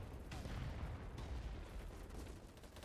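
Repeated booming blasts and gunfire crackle from grenade explosions in a multiplayer shooter video game, dense and loud throughout, with voices talking over the battle.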